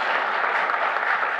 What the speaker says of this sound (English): She brought a cheering crowd.